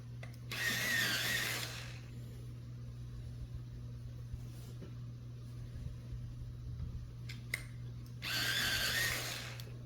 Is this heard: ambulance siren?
no